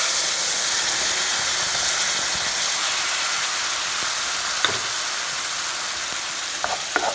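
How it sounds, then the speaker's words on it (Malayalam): Ground papaya pulp fries in hot ghee for papaya ladoo, a loud, steady sizzling hiss that runs throughout, with a few faint utensil taps near the end. "ഇനി ആ നെയ്യിലിട്ട് തന്നെ നമുക്ക് ഈ അരച്ചു വെച്ചില്ലേ, മിക്സിയിൽ അരച്ചു വെച്ച ഈ പപ്പായയുടെ പൂരി കൂടെ ഇതിലിട്ട് കൊടുക്കാം."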